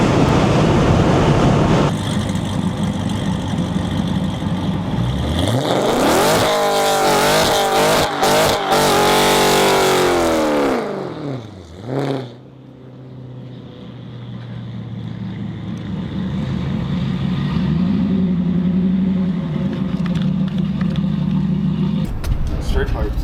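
A car with a straight-piped exhaust revs hard and loud up close, its pitch sweeping up and falling back in a big blip before settling into a rough, burbling idle, with people talking nearby.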